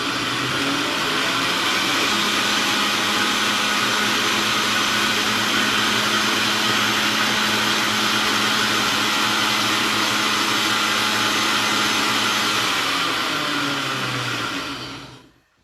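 A blender runs steadily for about fifteen seconds, finely pureeing whiting for a brandade, a loud continuous whirring motor drone that cuts off at the end; no talking.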